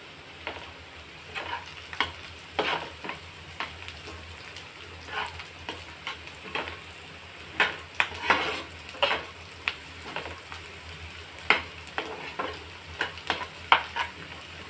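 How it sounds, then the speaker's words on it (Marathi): Onion sautés in a pan with kurdai, a soft continuous sizzle broken by repeated scraping stirs and clinks, close and fairly quiet, with no talking. "आता आपला कांदा व्यवस्थित परतलेला आहे."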